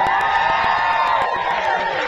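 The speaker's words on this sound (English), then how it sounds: "We'll give you another cheer" Wedding guests cheer together in a loud, sustained crowd roar with whoops and shouts, filling the whole moment close and dense.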